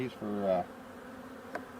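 A honeybee drone buzzes briefly and softly during an open hive inspection, a short rising drone of wings lasting about half a second, followed by quiet background with a faint tap.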